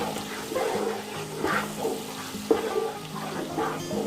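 A spoon stirs peas and tomatoes in a cooking pan, soft repeated scraping and wet sizzling in slow strokes, close and moderately quiet, with a sharp clink near the middle.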